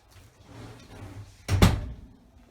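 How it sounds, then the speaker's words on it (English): A room door shuts with a single firm thunk, close by, after a moment of quiet room noise. "let me shut my door."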